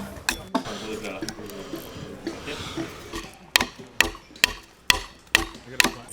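Adze chopping into wood to cut notches, a series of sharp, loud, close woody strikes spaced about half a second apart, following a stretch of quieter handling noise.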